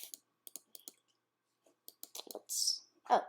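Sharp computer mouse clicks come in short bursts at an irregular rhythm, close and fairly quiet, with a few brief softer sounds between them and no talking.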